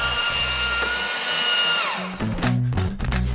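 Power polisher whirring at high pitch on a car's paintwork, winding down after a couple of seconds into clunks and brief bursts of handling noise nearby.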